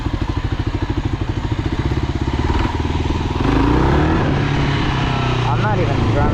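A Kawasaki KLR motorcycle putters along off-road in low gear, its engine thumping in a steady rhythm before revving up into a louder, smoother drone, with someone talking over it throughout.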